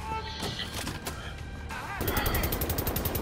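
A weapon in the first-person shooter Wolfenstein: The New Order fires a rapid, even stream of shots for the last second or so, preceded by clattering game effects and mechanical noise.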